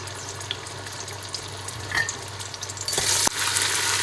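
Whole spices such as mace, star anise, cinnamon and black and green cardamom frying in oil for chicken pulao, a soft steady sizzle that swells louder near the end, with faint stirring and no talking.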